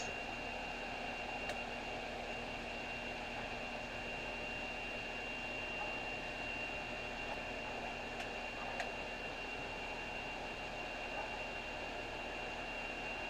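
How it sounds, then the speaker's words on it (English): Internal blades spinning inside a gas-producing reactor, a steady faint whirring hum with a thin constant whine, unchanging throughout. "Let's go ahead and spin the internal blades."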